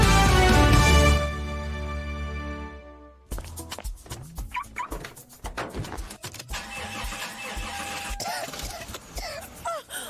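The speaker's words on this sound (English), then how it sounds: "Oh no, not my engine again." A car engine cranks and fails to catch, after a loud sustained tone at the start, with a rapid sputtering whir of repeated turnover attempts close up for several seconds, in an engine oil advert.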